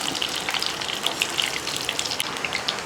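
Onion rings and curry leaves sizzling together in hot oil, a steady dense crackle and spatter with scattered bright pops, close and continuous for the whole stretch with no voices.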